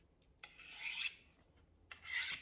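Knife blade drawn across a sharpening stone in two light, rasping strokes, each a brief scraping swish, close and clear with quiet pauses between.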